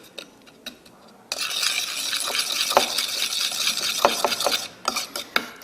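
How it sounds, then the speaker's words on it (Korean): A spoon stirs a seven-ingredient Korean seasoning made with sugar, crushed sesame and sesame oil in a bowl. After a quiet start, it becomes a steady, close scraping and clinking with sharp ticks of utensil on dish. "이렇게 7가지 양념을 잘 넣어서 설탕이 녹을 수 있도록 좀 저어줍니다"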